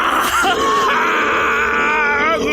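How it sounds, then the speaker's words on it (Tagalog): A man's loud, strained groaning growl of rage for a horror story, one sustained wavering roar that stays close and harsh throughout with no pauses. "Umungol sa galit si Royet nang makita niyang nadali ang halos kalahati ng kamag-anak ng balbal"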